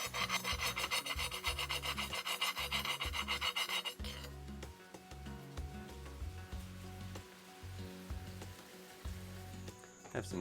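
Rough scraping of a tool over a fired kiln shelf to remove a glaze drip after a gas reduction firing, loud rapid rasping strokes for four seconds, then quieter irregular scrapes and taps.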